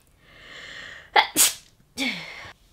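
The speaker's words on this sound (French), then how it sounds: "Et là je sens que je vais éternuer" A single sneeze bursts out close by, preceded by a faint inhaling buildup and followed by a short exhale.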